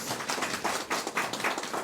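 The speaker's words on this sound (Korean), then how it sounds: "힘찬 박수로 격려해 주시기 바라겠습니다" A church congregation gives brief applause during a sermon contest, with somewhat sparse, uneven clapping in a reverberant hall that stays fairly quiet.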